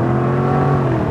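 Jaguar F-Type sports car engine, a loud close sustained drone holding a steady rev with a rich low growl and no talk over it.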